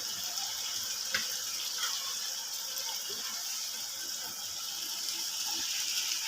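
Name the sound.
boiled chickpeas being added to cooked masala in a pot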